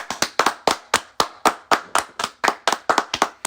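One person clapping hands, close and loud, with sharp claps in an uneven rhythm that sometimes falls into quick pairs, heard alone with no talking.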